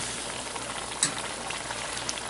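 Native fry bread sizzles in very hot oil, a steady close crackle and hiss with a few small pops and no talking.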